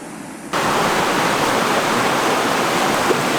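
A mountain stream rushes in a loud, constant broadband roar that cuts in abruptly after half a second and continues steadily, with no voices.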